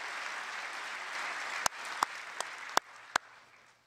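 Audience applause at a State of the Union address, a broad steady wash of clapping from a large crowd, with a few sharp louder claps or knocks standing out near the end as it fades slightly.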